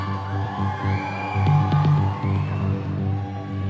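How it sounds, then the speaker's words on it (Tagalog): A crowd at a pageant finalists' event cheers, whoops and screams loudly, with sustained yells and bangs, swelling to a peak midway and continuing strongly to the end. "Makinig naman muna ng sigawan!"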